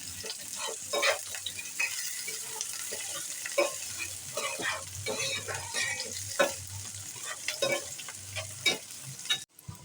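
Chopped onions with a little water sizzle and fry in a pan while being stirred, with scraping and clattering strokes over a steady sizzle throughout.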